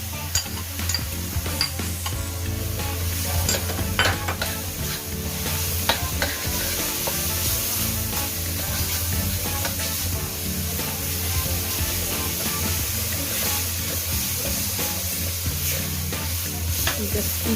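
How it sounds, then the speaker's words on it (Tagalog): Fermented red beancurd sautéing in a pan for a vegetarian lo hon dish: steady loud sizzle with occasional stirring scrapes, continuous and close, no talk. "Igisa siya hanggang sa lumabas yung aroma."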